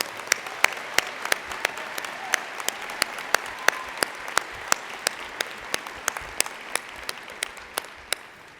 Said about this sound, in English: please give yourselves a round of applause for being here